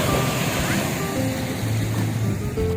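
Sea waves at high tide along a shoreline: a continuous, loud wash of surf with wind buffeting the microphone, rolling steadily without pause and no speech.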